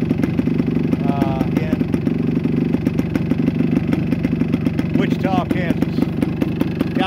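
A 1975 Yamaha DT400 motorcycle engine idling close by with a steady, rapid two-stroke putter and some mechanical clatter, running continuously without pause.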